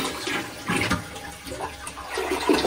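A toilet in an old house with a poorly draining pipe flushes loudly and close by, a continuous rushing gush of water lasting the whole moment.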